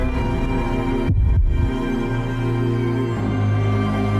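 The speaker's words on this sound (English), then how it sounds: "Your heartbeat starts to quicken." A heartbeat sound effect pulses steadily with deep, throbbing thumps under a low hum, its rhythm picking up over a few seconds, with a brief dropout partway through.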